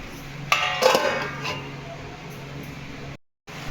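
A lid goes onto a metal pot of chicken curry with a couple of sharp metallic clinks near the start, followed by a steady low kitchen background.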